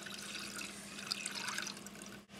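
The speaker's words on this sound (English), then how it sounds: "Now I'm pouring my soup in here." Blended celery and parsley soup pours into a pan on the stove, a quiet continuous liquid wash with a brief break near the end.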